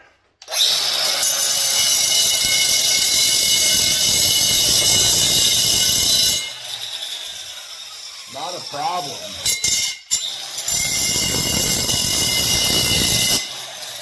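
A loud, harsh grinding whine of a grinder wheel cutting a hardened steel drill bit runs steadily for several seconds, pauses briefly while a voice speaks, then resumes with the same abrasive roar.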